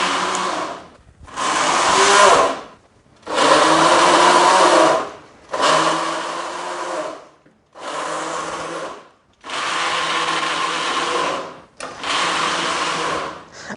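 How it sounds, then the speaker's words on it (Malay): A blender blends tamarind with water in loud, close bursts: about seven runs of whirring motor roar, each a second or two long, separated by short pauses. "Aku sibuk nak berbual, dia masih sibuk nak blend tau."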